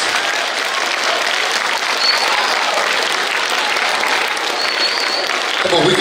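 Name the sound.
applause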